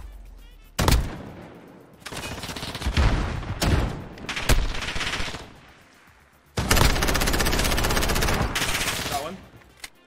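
Automatic machine gun fire in Call of Duty: Modern Warfare, loud close bursts that come in several stretches with brief gaps, the longest sustained burst near the end.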